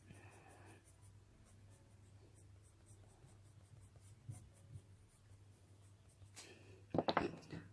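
Colored pencil hatching on paper, with soft repeated scratchy strokes, faint and close, that turn to a louder burst of rapid scribbling near the end.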